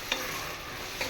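Onions and green chillies frying in oil for a chicken curry, a steady close sizzle with a couple of brief stirring scrapes near the start and end.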